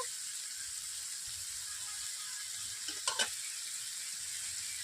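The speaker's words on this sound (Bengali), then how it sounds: "এভাবে মশলাটাকে আমি পাঁচ মিনিট ধরে কষিয়ে নিচ্ছি বন্ধুরা দেখতেই পাচ্ছেন আমার মশলা কষানো হয়ে গেছে মশলা থেকে তেল ছেড়ে যাচ্ছে" Masala paste fries in oil in a pan for a mixed vegetable curry, giving a steady, quiet sizzle. A short burst of scraping clatter from stirring comes near the middle.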